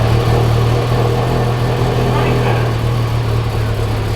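A Toyota 86 / BRZ / FR-S engine with a freshly installed GReddy 518Z turbo kit runs loud and close with a steady low drone and uneven idle, people talking faintly over it.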